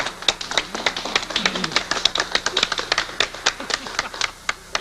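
A studio audience at a 1966 Grand Ole Opry country music broadcast claps in a lively, fairly even rhythm, sharp individual hand claps standing out close and distinct throughout.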